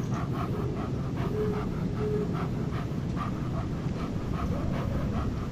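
A dog panting in the video game Life Is Strange 2, a quick rhythmic breathy huffing repeating steadily over a constant rumbling background, with no talk.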